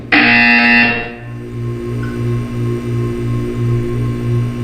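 A harsh electronic buzzer in Portal 2 blares loudly for about a second, followed by a quieter pulsing hum that repeats at a steady rhythm.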